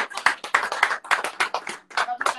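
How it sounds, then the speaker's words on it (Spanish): An audience applauds a Chilean folk musician with crisp, close, individual hand claps in a quick uneven rhythm that break off briefly before picking up again. "que es un tremendo aplauso."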